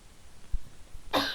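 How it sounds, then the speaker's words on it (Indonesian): A single short cough near the end of a quiet stretch, from a person caught in the rain during a lesson, preceded by faint low bumps. "batuk lagi karena kena air hujan"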